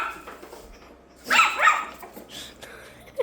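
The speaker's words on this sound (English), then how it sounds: "Sorry about the dogs in the background" Dogs give a couple of sharp barks at a moderate distance on a farm, with a faint yip at the very end and quiet background between them.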